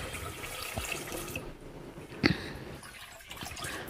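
Cassava tiwul rice being rinsed in water, a steady wash of sloshing and trickling with one brief louder splash partway through, close up and with no talking.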